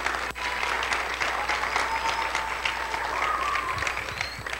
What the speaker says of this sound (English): I'd like everybody to give her some claps too.